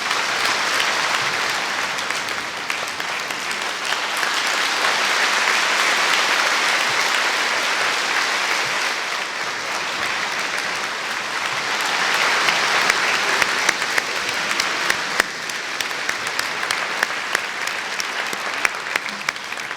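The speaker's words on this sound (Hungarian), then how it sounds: "Kérem, szerető tapsukkal fogadják." An audience in a Hungarian hall welcomes a guest speaker with sustained applause, a dense, loud wall of clapping that rises and falls in waves for about twenty seconds, with a few sharper individual claps standing out toward the end.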